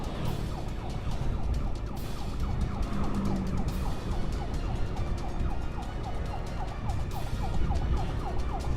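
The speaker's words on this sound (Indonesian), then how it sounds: "Ini pakai sirine darurat" An ambulance escort's emergency siren wails over steady road traffic, with rapid repeating yelp sweeps that are fairly loud and continuous throughout.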